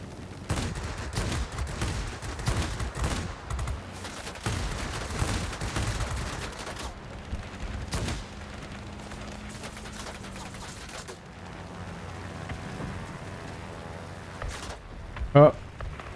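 20 mm aircraft cannons on a Ki-88 fighter in World of Warplanes, bursts of rapid gunfire chattering over engine drone, fire fading midway into steady engine hum, ending with a brief sharp tone; a player talks over it.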